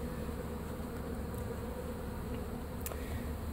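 Honeybees buzz in a dense, continuous drone during a hive removal at Lake Hollingsworth, Florida, many insects circling close by at a soft, steady level with no speech.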